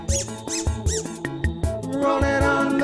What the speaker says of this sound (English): I love that squeaky sound.